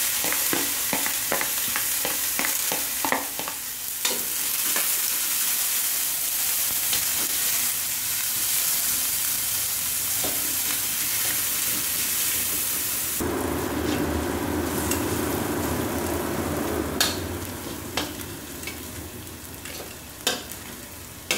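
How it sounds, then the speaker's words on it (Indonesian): Shallot and garlic spice paste sautéing in oil left over from frying tempeh gives a steady close sizzle with scattered crackles. Partway through, the frying grows suddenly louder and denser and keeps going without talk. "Ini bekasnya goreng tempe, aku mau buat itu ya. Buat ngongso bumbu ya, bawang merah"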